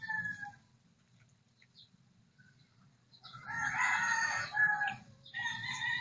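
Hens clucking and a rooster crowing on a farm, with scattered soft clucks early on, then a loud, close burst of crowing and cackling that runs to the end.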